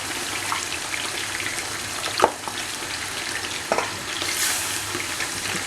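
Warm milk is stirred into a homemade lasagna sauce in a pan, with a steady bubbling sizzle and a couple of sharp utensil knocks against the pan, close and moderately loud, without speech.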